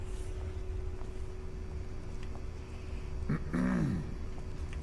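A dog growls in the game Dishonored, one short snarling burst near the end over a quiet, hissy background.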